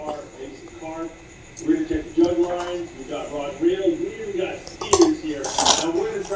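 Chicken pieces are mixed with lemon juice, salt and a pinch of food colour in a bowl, with intermittent light clinks and scrapes under close talking.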